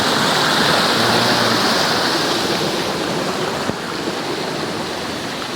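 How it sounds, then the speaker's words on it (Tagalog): Continuous rushing of flowing spring water at a resort pool, loud and steady throughout, with no voices. "Yung tunog nung ano ng tubig,"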